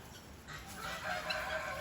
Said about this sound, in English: Dirty, rotten guinea birds.